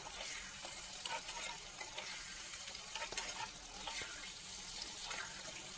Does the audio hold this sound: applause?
no